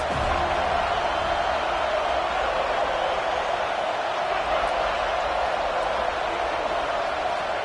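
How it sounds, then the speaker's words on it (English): Home football stadium crowd, a steady dense roar of many voices sustained without a break, loud and diffuse throughout. "This crowd going to try to make life miserable for these guys"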